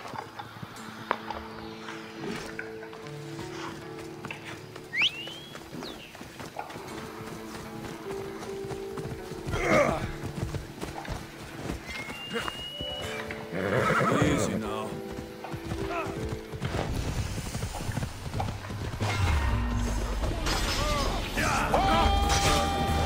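A horse in Assassin's Creed Odyssey gameplay whinnies loudly several times amid rhythmic clip-clop hoofbeats that build toward a gallop, with game noise and mechanical clatter growing denser and louder toward the end.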